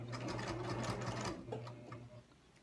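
Close, steady whirring chatter of a sewing machine stitching a fabric tote bag, its rapid needle rhythm running continuously before slowing and easing off at the end.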